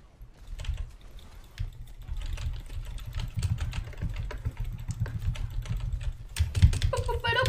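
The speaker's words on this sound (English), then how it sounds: "Yeah, you can hear my keyboards." Rapid computer keyboard typing and mouse clicking during a heated Overwatch 2 match, a steady clatter of keystrokes running throughout, close and fairly loud, with a burst of heavier clicks near the end.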